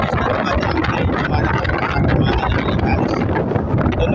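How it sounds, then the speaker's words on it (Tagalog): Strong typhoon wind roars without a break along the coast during Typhoon Uwan, loud and buffeting the microphone with no talk. "yung lakas ng hangin niya, talagang napakatindi ng lakas"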